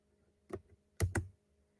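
Three quick keystrokes on a computer keyboard, close and distinct, one soft tap then a sharp double click, in an otherwise quiet room with no talking.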